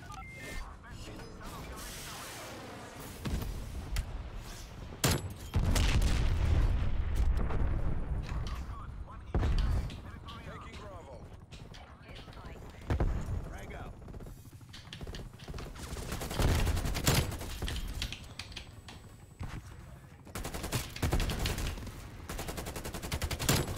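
A cruise missile killstreak detonates in Black Ops Cold War on the Nuketown map, with repeated loud explosions and bursts of gunfire and an excited player voice talking over the chaos.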